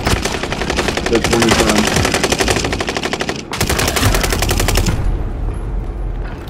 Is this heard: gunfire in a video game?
yes